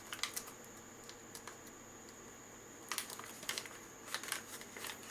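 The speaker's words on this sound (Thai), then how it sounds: "คลี่ถุงออกมาก็จะเป็นถุงพลาสติกใสๆอย่างนี้" A clear plastic bag is pulled out and unfolded in a home kitchen, giving quiet, scattered crinkles and rustles in short bursts separated by near-silence.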